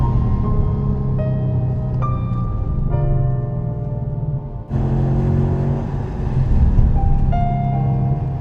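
An Audi S5 V8 recently treated for a misfire accelerates hard, its engine note climbing in loud rising sweeps, dipping briefly at a gear change, then pulling up again with a deep steady roar.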